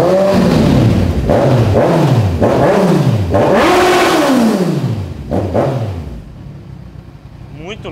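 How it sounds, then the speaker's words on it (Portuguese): A 2014 motorcycle engine starts in neutral and revs hard in repeated rising-and-falling surges, loud and close, then settles toward a lower idle. "Tá no neutro, pode dar partida."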